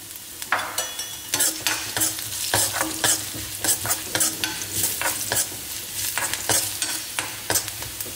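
Garlic with a pinch of asafoetida frying in a pan over full flame: a steady sizzle broken by quick, repeated spatula scrapes and stirs, close and fairly loud with no voices.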